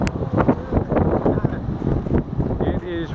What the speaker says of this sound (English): It is really windy and chilly.